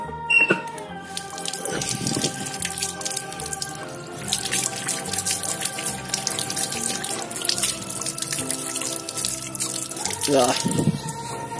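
A silicone phone case is rinsed under a running tap, giving a steady hiss of flowing water with splashes over a sink, while background music plays throughout.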